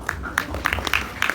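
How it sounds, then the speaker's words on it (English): Light applause from a seminar audience for the speakers, sparse claps at moderate distance. "please give a big round of applause to our speakers"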